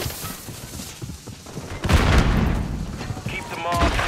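Call of Duty battle with a grenade blast and gunfire: heavy booms and rapid volleys of shots rumble loud and close, with shouting voices mixed into the chaos.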